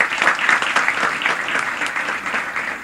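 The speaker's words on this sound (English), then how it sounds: "I think that deserves a round of applause" An audience at a book launch with a Union Minister present applauds warmly, a dense, even wash of clapping that holds steady for a few seconds.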